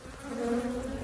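Honey bees swarm around a Langstroth hive during a honey flow, making a steady, dense, close buzz that fills the moment without any voices.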